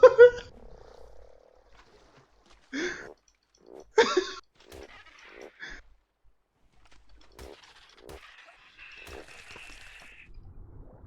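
Croaking frog in the game Ark Survival Evolved, a low call near the start followed by scattered chirps and rustles, with faint bird-like calls later and no talk.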